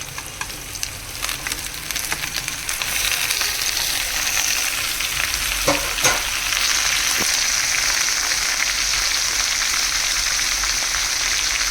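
Spinach sizzles steadily as it fries in a pan for a home-cooked spinach dal, a dense continuous crackle with occasional stirring scrapes, close and fairly loud, with no talking.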